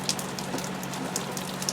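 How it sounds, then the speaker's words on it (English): Rain falls steadily on a hot, humid day, a soft continuous patter with brighter scattered drop hits throughout, fairly quiet and with no voices. "This is Saturday, and it's raining, but the sun is shining."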